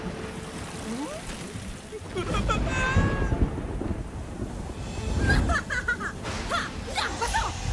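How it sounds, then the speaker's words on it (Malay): Heavy rain and rumbling thunder in an animated cartoon: a dense roar of downpour swells into loud thunder rolls, while voices and laughter break in over the storm. "Sudah 2 hari hujan turun dengan lebatnya di kota hilir."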